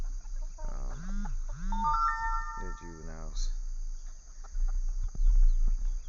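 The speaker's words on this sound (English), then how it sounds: "I got a bunch of roosters over here, but there's several hens in there." Chickens cluck and squawk close by in a coop of roosters and hens, with a rooster crowing over them, while a person speaks briefly amid steady background hum.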